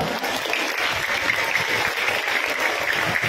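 A group of school pupils clap for themselves at a morning assembly, a dense, steady wash of applause filling the hall for a few seconds.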